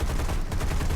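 Machine gun fire from a P-36 Hawk fighter in the War Thunder flight game, a loud continuous rattling burst of rapid shots throughout.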